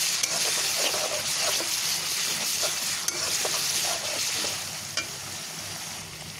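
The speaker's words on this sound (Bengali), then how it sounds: "আমি 1 মিনিটের মতো ভেজে নিয়েছি" Ginger garlic paste fries in oil with a steady, soft sizzle and faint scraping, close and moderately quiet, before fish is added for a spicy bhuna.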